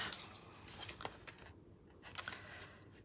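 Scissors cut through a piece of fabric with a few crisp, close snips and rustles, separated by short pauses, with no one talking.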